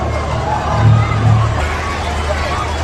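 A large crowd at the Agri festival in Badlapur, an outdoor fair, produces a dense babble of many overlapping voices, steady and loud with a slight swell midway.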